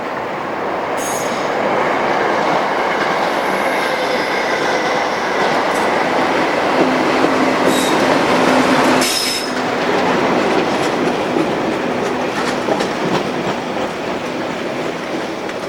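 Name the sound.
locomotive 47283 hauling Freightliner flat wagons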